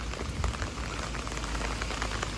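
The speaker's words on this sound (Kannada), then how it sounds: "ಜಪಾನಲ್ಲಿ ಇವತ್ತು ಮಳೆ ಬರ್ತಾ ಇದೆ" Rain falls steadily in Tokyo during a typhoon warning, a close, dense patter of drops hitting surfaces that stays even and continuous throughout, with no voices.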